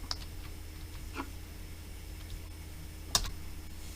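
Sparse, quiet keystrokes on a computer keyboard during coding, a few scattered clicks with one sharper tap near the end, over a steady low electrical hum with no speech.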